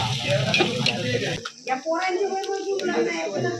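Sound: onion sizzling in a pot over a wood fire

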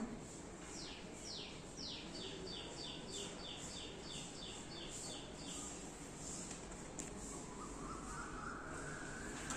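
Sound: birds calling

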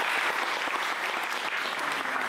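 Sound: wedding guests applauding the photographer

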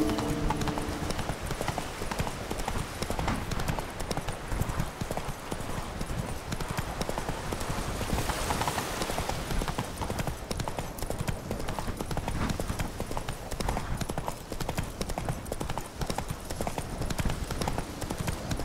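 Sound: horse Roach galloping in video game Witcher 3 Blood and Wine

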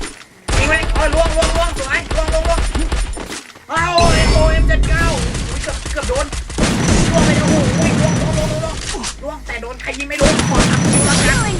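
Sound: gunfire in Free Fire video game

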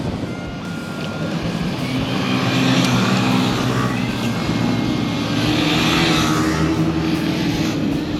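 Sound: group of Yamaha motorcycles riding past on a flat track

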